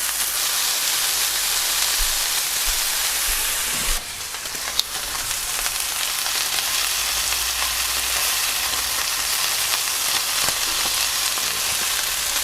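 Beef sizzles and fries in a hot pan while browning for a Greek stifado stew, a steady close broadband crackle and hiss running throughout, with a brief stir or shift in the pan partway through.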